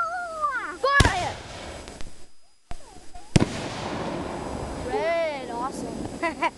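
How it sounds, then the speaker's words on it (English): Two sharp firework blasts go off close by, with whistling rising tones before and after them and voices chattering around. "I love fireworks. They're awesome."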